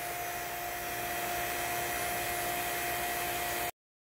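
A vacuum pump evacuating the sealed system of an LG refrigerator during compressor replacement, a steady loud whirring drone with a constant hum, running unchanged close up until it cuts off abruptly near the end.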